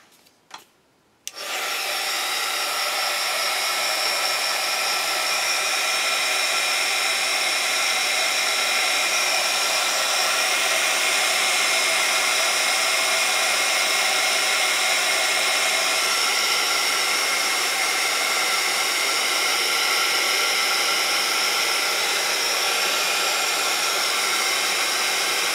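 A hair dryer blows steadily on a craft project, a loud, continuous broadband whoosh that switches on after a brief click and runs unbroken to the end with no talking.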